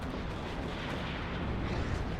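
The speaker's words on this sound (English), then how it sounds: "Wonder where the shells are from our teammate on the right. Oh, they're just firing now." Continuous rumbling artillery fire from shells in the WARNO real-time strategy game, a dense broadband roar of overlapping distant blasts holding steady with no voices.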